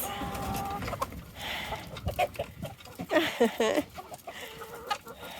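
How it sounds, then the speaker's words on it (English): Several chickens cluck and squawk close by in a busy, uneven chatter, with a few louder calls standing out. "Good morning, chickens."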